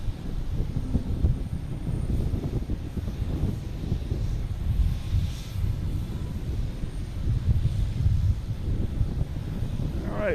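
An airliner on approach to Boston Logan Airport, arriving from JFK, gives a steady low engine roar that holds at a moderate, constant level throughout, with some wind buffeting on the microphone.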